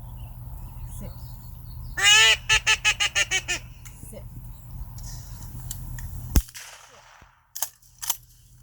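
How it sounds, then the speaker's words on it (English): At a retriever hunt test, a handler blows a duck call in a quick run of loud, nasal quacks. A sharp gunshot follows a few seconds later, then a couple of fainter distant bursts. "All marks must start with the duck call from the handler"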